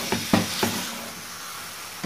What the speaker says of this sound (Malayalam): ഇതൊന്ന് നല്ലതുപോലെ ഇളക്കി കൊടുക്കാം